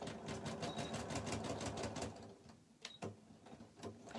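A sewing machine runs a rapid, steady stitching burst along one seam of a pencil pouch, then stops, leaving a few short clicks and handling noises.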